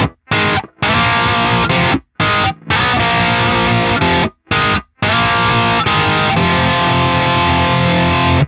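A distorted electric guitar chugs through a riff, loud and thick, with several sharp stops and restarts between phrases.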